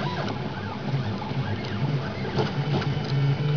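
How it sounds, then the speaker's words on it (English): Slow-moving stepper motors of a BeagleBone-driven 3D printer printing text, a steady whirring hum with shifting motor tones and faint clicks, close and uninterrupted by speech. "I love the sound of stepper motors."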